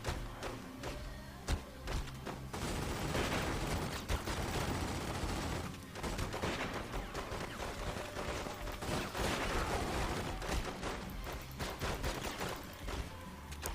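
Gunfire erupts in a shootout in The Godfather II video game, with dense, loud bursts of shots and thuds that come in waves over nearly fourteen seconds, with only brief lulls.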